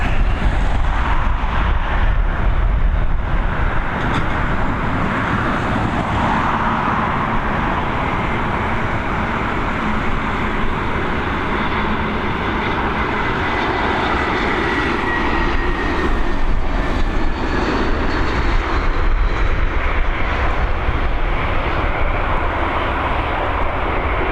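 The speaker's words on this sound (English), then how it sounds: "we've got this A320 operated by High Sky coming in from somewhere" An Airbus A320 lands on runway 28L at Dublin Airport, a loud, continuous roar of jet engines with broad rushing noise that holds steady for the whole stretch, heard from nearby without talk.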